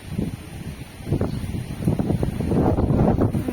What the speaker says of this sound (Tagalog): Ang hakas ng hangin.